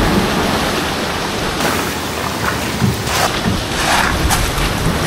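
Strong waves break and rush continuously in a loud, broad roar, with surges of crashing water and no voices.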